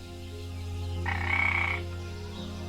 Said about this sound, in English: that frog annoys me too